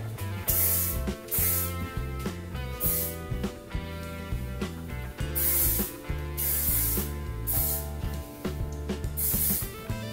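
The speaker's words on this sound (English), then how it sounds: "I'm just going to spray that into this area" Short hissing sprays from an aerosol hairspray can, repeated several times, over steady background music.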